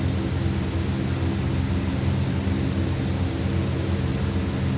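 Inside a DHC-6 Twin Otter in flight, the turboprop engines keep up a loud, steady drone and hiss, unbroken and even throughout, with no voices.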